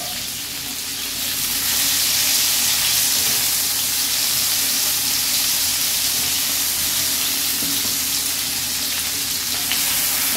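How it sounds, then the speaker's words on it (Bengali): Potatoes and spices sizzle loudly in hot oil in a pan as water is poured in, a dense steady frying hiss that swells after the first couple of seconds and holds without a break. "হ্যাঁ এবার জল দিয়ে দেবো আমি"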